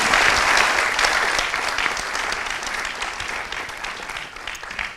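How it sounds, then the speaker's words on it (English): Audience applause for a conference panel at the Impact/Failure Conclave 2022: a dense, sustained round of clapping from a sizeable crowd, strong at first and easing slightly over five seconds, with no speech over it. "So I would like to ask for a big round of applause for the panel again."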